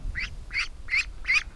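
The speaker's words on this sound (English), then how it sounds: "Calm down, little duck." A small blind duckling quacks four times in a steady, evenly spaced series, close and fairly loud over a low background rumble, with no talking.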